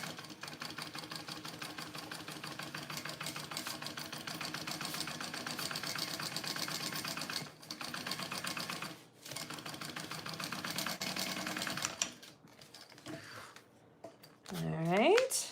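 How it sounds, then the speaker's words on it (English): A sewing machine stitches steadily while basting two layers of fabric together, a fast continuous mechanical whir with brief pauses and a short stop near the end, close and moderately quiet. "Just basting the two layers together."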